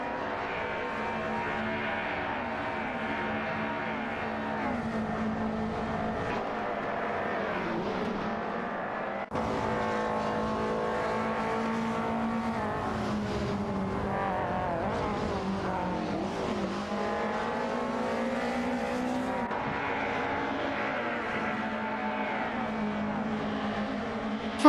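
BMW 320si race cars racing on a track, engines droning and shifting pitch continuously, with one car's note rising and falling as it passes and occasional tire noise, all close and loud without talk.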